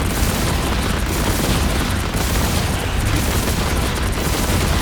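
Weapons firing at multiple targets in the Marvel Rivals video game against Ultron: a dense, loud, unbroken barrage of blasts and booms with no pauses.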